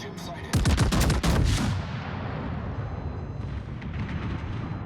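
Warship guns in a naval combat video game fire a salvo of several rapid, heavy booms in quick succession, then a long rolling rumble fades out beneath continuing background noise.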